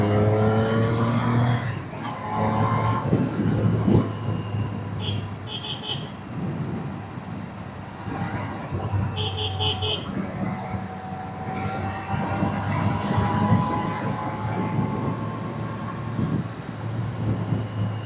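Triumph Street Triple R superbike being ridden on a road, a steady engine drone with rushing wind noise running throughout, loud and close, with a few brief higher tonal bursts along the way.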